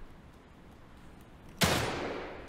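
A single loud gunshot rings out in The Evil Within 2, fired at a chain on a fence, with a sharp onset after quiet ambience and a long decaying tail.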